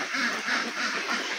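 Jinding ducks quacking steadily on a duck farm of about 1,770 birds aged four months twenty days, a dense continuous chorus of overlapping quacks at close range.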